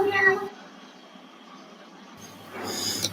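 A voice imitating a cat's meow, recorded and played back in the Scratch programming environment, comes in two short bursts at the start and end with a quiet gap between them.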